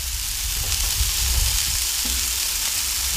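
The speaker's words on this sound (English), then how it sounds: "That's gonna give you a nice, good searing on the outside." Smash burgers sear on a Blackstone griddle in a loud, continuous sizzle, with a few soft scrapes and taps mixed into the steady hiss.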